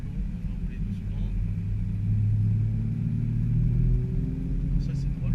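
A 2018 Audi RS5 rolls slowly into town, its low engine rumble and road noise steady from inside the cabin, with a slight swell partway through as someone talks over it.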